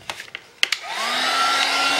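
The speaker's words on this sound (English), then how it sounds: "heat tool." A heat tool starts blowing on embossing powder for card making, a steady close whooshing airflow with a rising whine, preceded by a few light taps and clicks.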